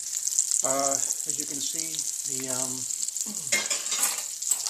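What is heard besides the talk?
veal brain pieces frying in pan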